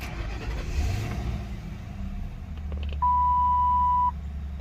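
A car with its ignition switched on runs a steady low engine idle, with a few faint ticks, and then a clear warning beep holds for about a second.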